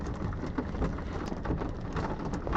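Hail and heavy rain pounding steadily during a severe thunderstorm, a dense, constant roar of impacts with no voices.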